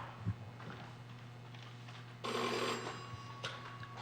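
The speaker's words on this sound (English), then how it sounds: "Trixie, give me that call on Duffy's wire." A telephone rings during a stage performance of the play The Front Page. A faint, quiet room tone gives way to a short burst of bell ringing partway through, followed by a brief later jingle.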